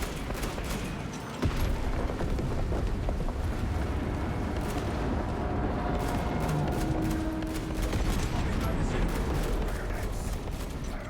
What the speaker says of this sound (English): Detonate the charges now.